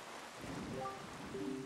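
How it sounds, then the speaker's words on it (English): Rain falling on a cursed island in the video game Wind Waker, a soft, distant patter with faint tonal game sounds drifting over it and no voices. "Everywhere else blows clear sky and calm seas, but this place suffers under dark clouds and rain"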